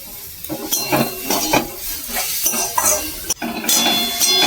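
Grated carrots cooking in a pan for carrot halwa, with close, loud bursts of stirring, scraping and metal clinks over a light frying sizzle.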